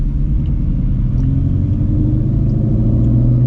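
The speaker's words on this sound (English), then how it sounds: "I literally hear the tires picking up all the water on the road" A Shelby GT350 tuned to 800 horsepower drives on a rain-soaked road, with a steady low engine rumble and tire roar from water spray heard from inside the cabin, close and continuous.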